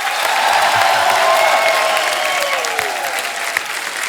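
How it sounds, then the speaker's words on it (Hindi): Loud, sustained applause from a large studio audience at The Kapil Sharma Show, dense and steady clapping that fades slightly toward the end. "हमारे सभी मेहमानों के लिए एक बार जोरदार तालियां हो जाए।"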